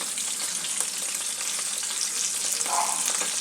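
Tilapia fish pieces sizzle steadily in hot oil in a pan, turned over while frying for a fish jhal curry, making a close, dense, continuous hiss with small crackling pops and no voices.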